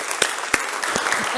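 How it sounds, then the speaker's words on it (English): A workshop audience gives thunderous applause to welcome speaker Kim Stone, a dense, loud wash of clapping hands with a few sharp claps cutting through. "could we get a big, thunderous round of applause for Kim Stone?"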